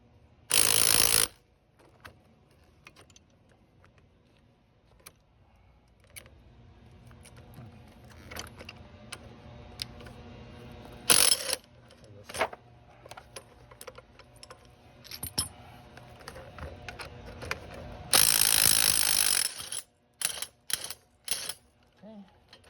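Bolts are tightened on a Subaru Crosstrek rear shock absorber during disassembly, with two loud, brief buzzing tool bursts and many scattered metallic clicks and clanks against a quiet background.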